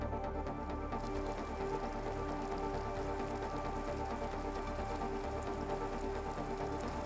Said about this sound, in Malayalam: വടക്കൻ കേരളത്തിൽ ഇന്നലെ രാത്രി തുടങ്ങിയ മഴ അതിശക്തമായി തന്നെയാണ് ഇപ്പോഴും പെയ്തുകൊണ്ടിരിക്കുന്നത്